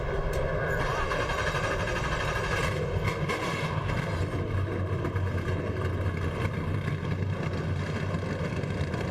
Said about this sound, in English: Brendan Gaughan happy to hear that engine firing up